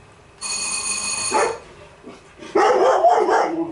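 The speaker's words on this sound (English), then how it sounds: "It's the dogs and answering the bell behind me." A bell rings in a sustained tone, then dogs bark in a burst of several close, loud barks behind the speaker indoors.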